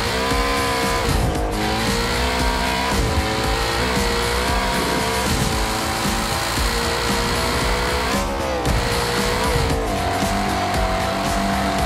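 A Ford Mustang revs hard in the BeamNG driving game. Its engine roars loudly and continuously with shifting pitch, while tires squeal and skid throughout, and there is no talking.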